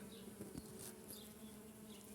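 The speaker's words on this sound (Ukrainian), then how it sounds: "Гудуть, скільки їх там." A steady, close buzzing of many bees droning together inside blooming tree peony flowers, with a soft, continuous hum and no voices.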